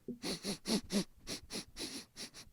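A man's vocal imitation of sniffing as part of a Joe Biden impersonation: about ten short, breathy sniff bursts in a steady rhythm, close and fairly loud with no talk.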